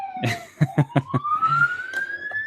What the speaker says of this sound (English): I got an ambulance driving by.